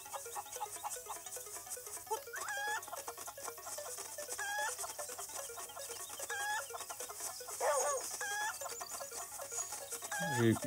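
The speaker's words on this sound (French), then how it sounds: "J'ai volé une poule." A chicken in the Zelda Link's Awakening game clucks in short, repeated bursts over a steady musical background, with a flurry of louder squawks near the end.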